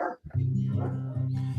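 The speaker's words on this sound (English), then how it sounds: "You can hear the dogs barking in the background." Dogs bark and yip close by in a steady run of overlapping calls with a whimpering edge, loud throughout after a brief pause near the start.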